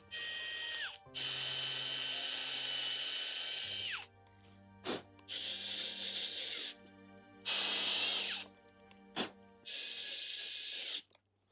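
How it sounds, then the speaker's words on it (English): A power drill pre-drills holes in wooden trim on a card table, running in four bursts of a few seconds each, separated by short pauses and a couple of sharp clicks, loud and close. "I'm going to pre-drill holes so I don't split the trim"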